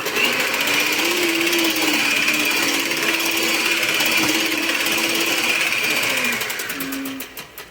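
Vanilla cake batter being mixed in a bowl gives a loud, continuous whirring drone that holds steady for several seconds and then fades out.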